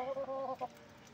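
Hens clucking at a poultry sale, a short run of quiet, close, nasal clucks lasting about half a second before fading into low background hiss.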